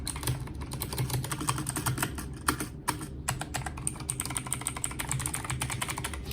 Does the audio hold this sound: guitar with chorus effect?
no